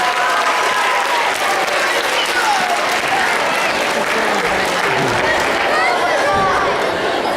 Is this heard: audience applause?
yes